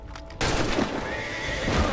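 A horse in the Assassin's Creed 3 video game lets out a loud, close whinny after being shot, one sustained cry lasting most of the moment.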